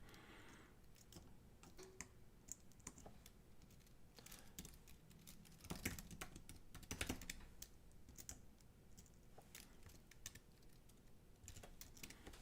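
Typing on a computer keyboard while writing Bash code, with steady clustered key clicks that thicken into a brief denser burst midway, recorded close with no speech.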